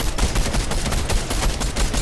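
Rapid automatic gunfire from a video game weapon, a dense continuous stream of loud shots with a steady stuttering rhythm throughout.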